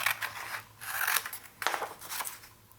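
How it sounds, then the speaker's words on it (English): Scissors snip through paper along a pencil-drawn pattern line for a holiday ornament craft, with several close, crisp cutting strokes in quick bursts and short pauses between them. "you're going to take your scissors and you're just going to cut along that pencil line"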